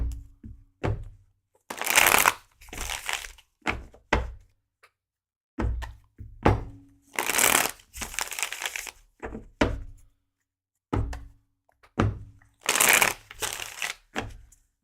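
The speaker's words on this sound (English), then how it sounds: "Let's get shuffled." Tarot cards being shuffled by hand in repeated bursts of riffling and soft tapping, close and crisp, with short silent gaps between rounds and no talking.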